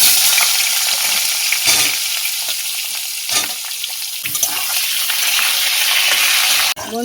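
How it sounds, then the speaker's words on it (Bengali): Snake gourd (chichinga) pieces fry in hot oil in a pan, a loud, close, continuous sizzle broken by the scrape and clatter of stirring. "ওই তেলের মধ্যে চিচিঙেগুলো ভেজে নেব"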